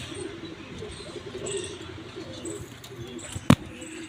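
Pigeons cooing softly and continuously at a loft, with faint chirps and one sharp loud knock or flap near the end, no talking.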